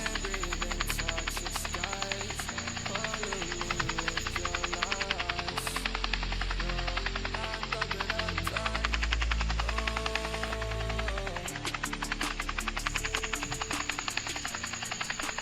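A helicopter in the Scar Fall 2.0 video game flies with a loud, continuous rotor thrum and engine whine, rhythmic blade chopping steady throughout, with a deeper surge in the middle.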